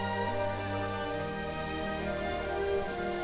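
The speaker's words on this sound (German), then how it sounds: "Bei dem Regen." Steady rain falls in the video game Gothic 3, a soft even hiss of drops with a faint background hum, continuous and fairly quiet throughout.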